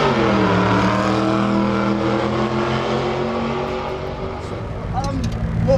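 The Aussie Falcon drag car's engine roars and revs with sweeping pitch at a street drag event, loud and close, while voices talk over it.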